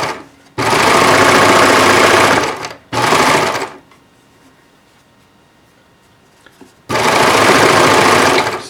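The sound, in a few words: industrial sewing machine sewing a straight stitch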